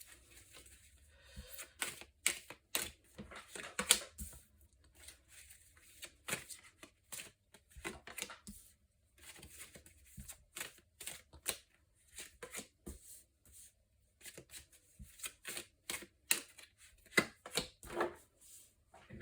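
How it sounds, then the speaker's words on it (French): Tarot cards being shuffled close by, a long run of quick crisp riffles and flicks in irregular bursts with short pauses, fairly quiet and alone. "Alors, nous prenons 5 cartes pour le"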